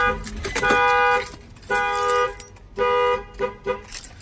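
A 2019 Nissan NV van's alarm sounds close and loud in repeated tonal blasts, each lasting about half a second to a second, with short gaps between them.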